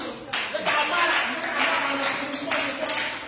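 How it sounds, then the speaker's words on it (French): Audience at an indoor business presentation clapping in a steady continuous patter, moderately loud, with a voice speaking over it. "il faut moi applaudir"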